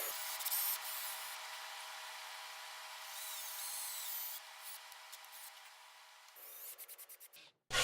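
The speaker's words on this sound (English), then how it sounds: "I do a little sanding before screwing on the top" Wood is hand sanded on a heavy-duty floating shelf with a sustained, close, gritty rasp that breaks into quick back-and-forth strokes near the end, followed by a brief pause.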